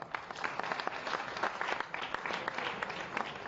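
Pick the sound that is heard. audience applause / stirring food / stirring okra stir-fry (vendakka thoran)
audience applause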